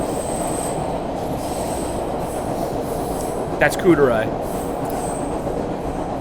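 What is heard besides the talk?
train running on rails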